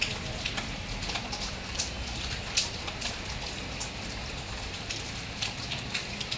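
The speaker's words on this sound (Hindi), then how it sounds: "ये देखिए अभी भी कंटिन्यूसली बारिश हो रही है।" Continuous steady rain falls in Bangalore under an orange alert, a soft even hiss with scattered nearby drips and patters, with no voices.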